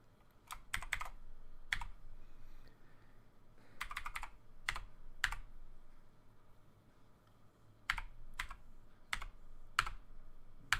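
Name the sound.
typing a code on a computer keyboard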